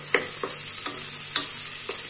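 Chopped onion fries in a pan while a spoon stirs it, with about five distinct scraping strokes spaced at a fairly even pace over a constant bright sizzle.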